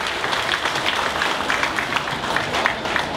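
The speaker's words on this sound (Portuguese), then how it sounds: "convidar a todos a dar um aplauso ao Padre José Alves Martins" Audience applause at the inauguration of a new school, honoring a priest; steady dense clapping from a crowd throughout, moderately loud with no speech over it.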